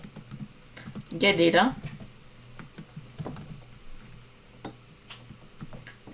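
Close computer keyboard typing while entering a C++ function prototype: scattered light key clicks and short bursts in an irregular rhythm, with a brief spoken phrase early on.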